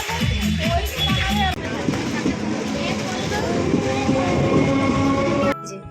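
A moving passenger train rumbles and clatters on the rails, with rhythmic clicking of wheels over joints and a sustained horn-like tone, heard from inside the carriage while people talk over it.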